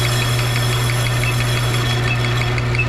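A metal lathe turns a part down to size with a steady loud motor hum and a constant low drone, even and unbroken throughout.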